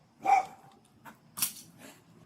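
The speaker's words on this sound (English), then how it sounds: "Don't shoot my dog." Short, fairly close barks from a dog at a police arrest, one strong bark followed by a couple of quicker, softer yips and a brief sharp burst.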